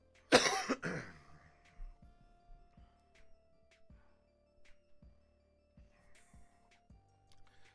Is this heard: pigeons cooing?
no